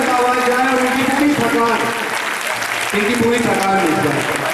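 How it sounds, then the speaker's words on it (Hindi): Loud applause fills a hall at a theatre festival, dense and continuous from start to finish, with voices calling out over the clapping. "एक बार जोरदार ताली होनी चाहिए और पिछली से पीछे तक आवाज जाए"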